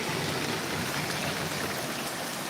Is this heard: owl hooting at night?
no